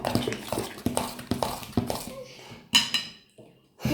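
Slime being stirred in a bowl, with a series of sharp clattering knocks and scrapes in a quick irregular rhythm, close and fairly loud, broken by short pauses.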